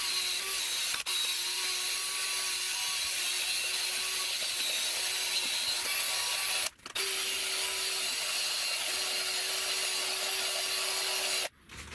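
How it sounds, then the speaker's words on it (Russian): Cordless drill spinning a polyamide abrasive disc to scour rust, dirt and old paint from inside a 400 mm cast iron pulley; a steady, loud grinding whir runs throughout, with two brief pauses where the drill stops. "Берем вот такой вот полиамидный кружочек, шуруповерт и просто-напросто внутри все очищаем от грязи"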